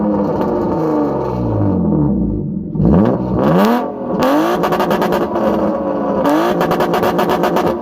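A straight-piped BMW E36 with solid engine mounts revs hard, its loud, raw exhaust sweeping up and down in repeated blips with crackly, rapid pulsing between pulls, close and unmuffled.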